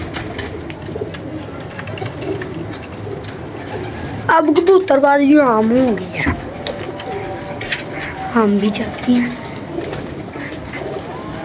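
Pigeons coo and flap their wings in flight over steady ambient noise, with several clear cooing calls standing out in the middle; people talk throughout.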